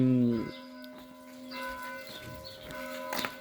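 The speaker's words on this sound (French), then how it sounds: "On entend les cloches du village." Village church bells ring at a distance, a sustained humming tone lingering in the air, with faint outdoor sounds and light rustling nearby.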